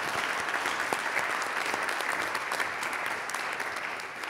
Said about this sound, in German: dafür nochmal einen Applaus bitte für alle.